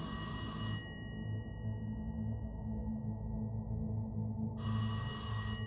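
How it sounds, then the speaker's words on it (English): A telephone mounted on a wall rings in an escape-style game room, a bright electronic ring burst at the start, a pause, then a second burst, set over a steady low room hum. "on the west wall, you hear a phone ring"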